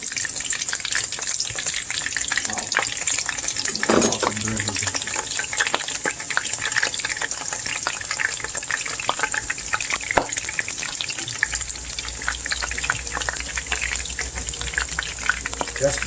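Onion pieces frying in hot oil in a pot, a steady close sizzle and crackle running throughout, with a couple of louder pops and stirring sounds.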